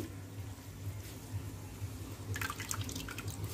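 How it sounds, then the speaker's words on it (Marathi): Water dripping from grated potatoes squeezed by hand for mendu vada, a regular series of soft close drips, with a brief burst of wetter trickling and squelching near the end. "त्याचं पाणी आपल्याला असं पिळून घ्यायचं आहे,"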